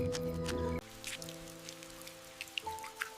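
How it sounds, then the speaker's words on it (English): Raindrops patter unevenly on a surface, light scattered drips over a steady soft wash, with a low musical tone running underneath and shifting partway through. "Rain cleans hardware."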